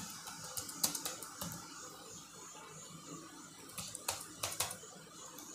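Keys clatter in quick, irregular bursts while text is typed into a Microsoft Word text box, with short pauses between flurries of light, close clicks and no talking.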